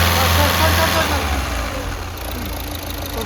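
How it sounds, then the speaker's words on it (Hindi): A Volkswagen Polo diesel engine runs steadily and loudly close by after repair, a smooth continuous idle hum with a slight rev, no pauses. "इंजन का जो साउंड है बहुत ही ज़्यादा स्मूथ हो गया है"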